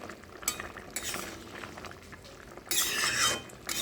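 Green chillies mashed with a spoon into a simmering taro and prawn curry, with soft scraping, clinks against the pot and a quiet bubbling sizzle, and a louder rough scrape near the end.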